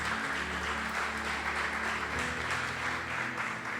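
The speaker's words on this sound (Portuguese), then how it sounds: "Vamos aplaudir Jesus bem forte." A church congregation applauding Jesus together, steady dense clapping filling the room at close range for the whole stretch with no pauses.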